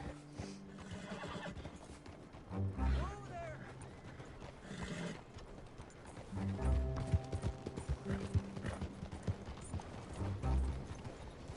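Horse hooves clip-clop steadily with a horse whinnying now and then, set against a busy, layered Red Dead Redemption 2 soundscape with people talking.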